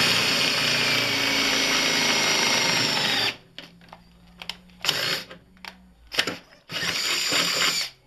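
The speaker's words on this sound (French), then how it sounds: "ensuite on fait le trou final, là, voilà, et hop, on perce" A power drill with a 10 mm bit bores the final hole in an arcade cabinet. It gives a loud, steady whine for about three seconds, then stops and restarts in several short bursts before one longer final run.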